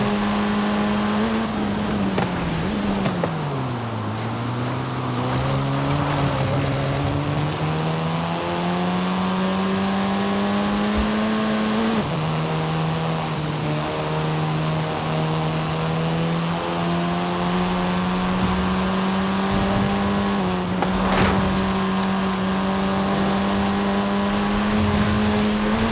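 Racing cars in Forza Horizon 5 roar through a sustained engine drone whose pitch climbs and shifts with gear changes, loud and continuous for the whole stretch, with no talk over it.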